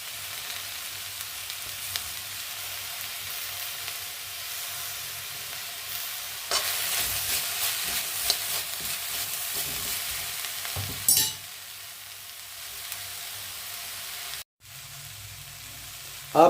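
Spring onion greens frying in a pan while being stirred, a continuous sizzle with bursts of louder scraping and stirring, a brief cut-out near the end.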